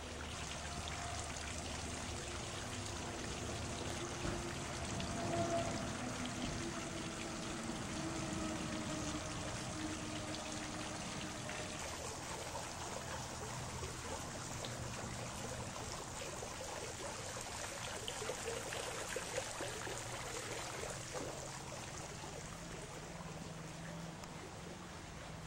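Water splashes steadily in a fountain outdoors, a continuous hiss of falling water at moderate distance, with faint voices and background sounds in places.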